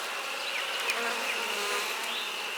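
A honeybee colony hums at an open hive during feeding, with a dense, steady buzz of many bees and occasional individual bees zipping close past.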